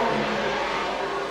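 A Formula One race car at the Monaco Grand Prix near Sainte Devote gives off a sustained engine roar, steady and fairly distant, with no pauses.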